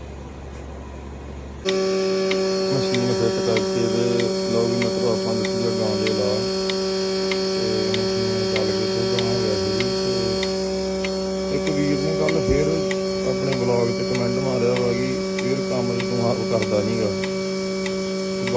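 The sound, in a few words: milking machine running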